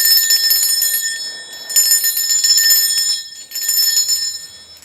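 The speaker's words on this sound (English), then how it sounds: "Now I'm going to be ringing a bell." A hand-rung bell rings in bright, sustained bursts, three long ringing passages separated by brief pauses, loud and close with no voices.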